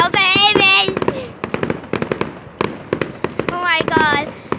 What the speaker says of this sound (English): fireworks and they're so good. You might not even be able to hear me.